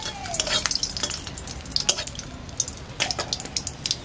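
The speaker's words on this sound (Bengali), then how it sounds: "আমি প্রথমে একটু তেল দিয়ে দিচ্ছি, শুকনো লঙ্কা প্রথমে এই পাঁচটা দিয়ে নিচে ভেজে নিচ্ছি" Five dried red chilies fry gently in a little oil over a low wood-fired clay stove, with soft crackling and frequent sharp clinks and scrapes of a spoon against the pan.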